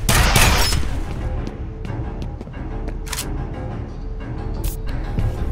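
Gunfire rattles through a firefight in the video game F.E.A.R., a loud burst at the start followed by scattered sharp shots and cracks at irregular intervals, some near and some more distant.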